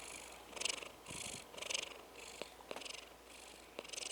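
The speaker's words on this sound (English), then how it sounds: "And she's purring." A pet cat purrs while lying in a person's lap, a close, soft rhythmic rumble of repeated breathing pulses about two per second, steady and alone.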